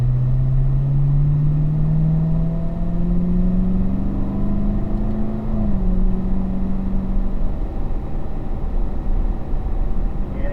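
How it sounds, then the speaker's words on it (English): A race car engine drones loudly on a track, its pitch rising steadily as it pulls through a gear and then dipping briefly at a shift before climbing again, with no talk. "We'll make our way up into 4th gear along the back stretch here."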